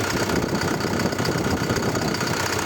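A Chinese Scout TE-504 tractor engine idling close by, a steady, dense mechanical rumble with a fine vibrating texture that holds unchanged throughout, with no voices over it.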